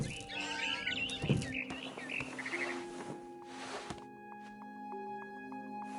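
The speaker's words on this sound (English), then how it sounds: "Then I heard chirping outside my window." Short barn swallow chirps and tweets in the video game What Remains of Edith Finch, over a soft, sustained musical background, fairly faint, with a few scattered sounds and a low tone underneath.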